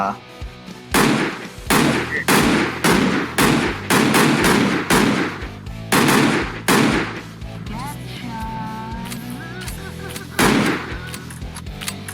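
Rapid gunfire in the Dweller Hunting horror game: a dense run of loud, close shots in bursts, then a lull with tonal game sounds, then a final shot, with a voice talking in places.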